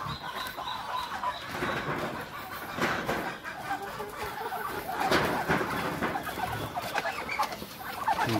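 Chickens in a rural yard pen cluck and squawk repeatedly in irregular bursts, nearby and moderately loud, with occasional gobble-like calls and some human talk mixed in.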